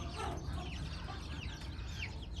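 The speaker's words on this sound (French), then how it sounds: "Les oisons qui sont des petits des oies." Goslings cheep and peep continuously in a busy chorus, close by, with a low hum in the background.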